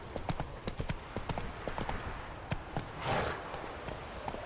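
Roach, the horse in The Witcher 3, clip-clops along in quick, steady hoofbeats, close and clear over a low outdoor ambience with a brief swell of wind or rustle near the end.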